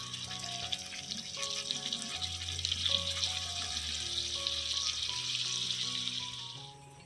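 Chicken meat frying in a pan as whisked sour yogurt is added, giving a bright continuous sizzle that swells and holds steady before easing off at the end, with a low tonal hum underneath; no voices.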